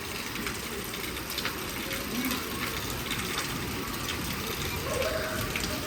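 Heavy rain falling during sunshine, a steady dense patter of drops on surfaces nearby, moderately loud and continuous, with faint scattered clicks.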